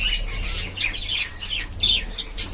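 Many birds chirp and call together in a busy, overlapping chorus, with a low steady hum underneath.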